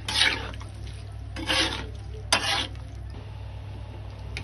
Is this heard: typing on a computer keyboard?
no